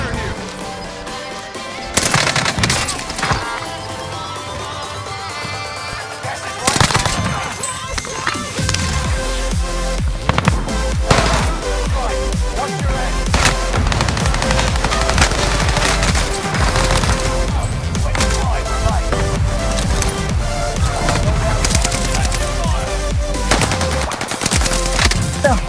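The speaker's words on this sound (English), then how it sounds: "Ah, getting shot at." Sustained bursts of automatic gunfire aimed at the player in a video game, loud and rapid with crashing impacts, continuing over a dense, busy game soundscape for the full stretch.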